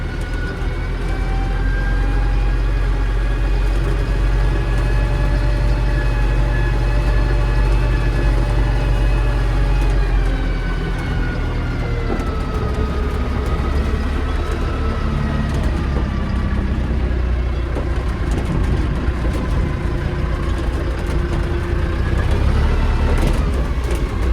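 A Kubota tractor engine runs steadily for a long stretch, heard from inside the cab as a loud, continuous low rumble with a drifting tonal whine above it.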